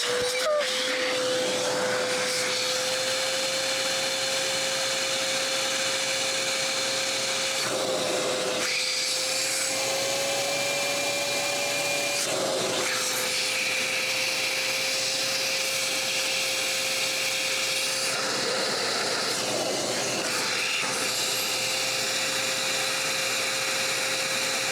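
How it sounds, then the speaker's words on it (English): A vacuum runs continuously to suck a line through, a steady loud whine with a faint tonal hum that shifts slightly, plus occasional rubbing and bumping noises. "Let's just get the vacuum."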